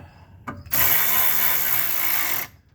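Ratchet or power tool tightening oil pan bolts on a BMW E90, a single loud continuous mechanical whir lasting about two seconds after a brief click, close up with no talking.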